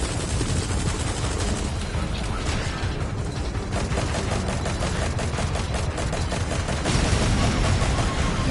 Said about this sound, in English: The best we've got so far is an assault rifle.